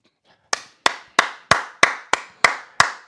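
Applause after a strong drop-shot point in a women's tennis final in Rome, heard as eight sharp, evenly spaced claps from a single nearby person, each with a quick decay, and no talking.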